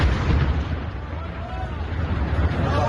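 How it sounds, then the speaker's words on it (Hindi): Explosions from an Israeli airstrike using bunker buster bombs on buildings in Beirut make a dense, continuous low rumble and roar that rises and falls without pause, with speech likely mixed in. "लगातार 7 इमारतों पर बमबारी की खबर है।"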